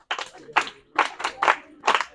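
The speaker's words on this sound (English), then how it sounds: "Can you please clap for him?" Schoolchildren on a farm tour clap together in a short, loose rhythm of about five sharp bursts, close by and fairly quiet, with no talk over them.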